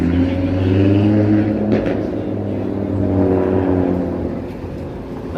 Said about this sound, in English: That car needs some work